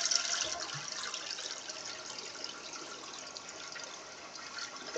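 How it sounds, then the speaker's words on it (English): A flushing toilet: a steady rush of running water, hissing and fairly soft, that holds without a break throughout and swells slightly again at the very end. "Flush, flush, flush, flush,"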